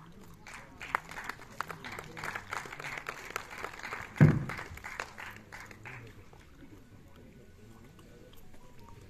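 Audience applause at a film festival, a faint, distant patter of clapping that rises briefly and fades after a few seconds, with a quiet room afterward.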